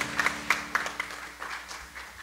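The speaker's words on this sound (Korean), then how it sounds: "우리 큰 박수로 함께 축복하겠습니다." A church congregation at a Sunday service claps together after a baptism blessing, steady overlapping hand claps in a short burst that fade, heard in a reverberant hall.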